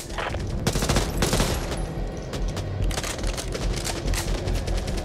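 Rapid bursts of automatic gunfire and booming shots in the Back 4 Blood video game, in a bar scene, loud and dense with fusillades coming in waves across the whole stretch.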